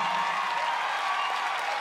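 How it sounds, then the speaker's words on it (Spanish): A live concert audience applauding in a hall, a dense steady wash of clapping from a large crowd, loud and sustained throughout with no pauses. "Aplausos para ti"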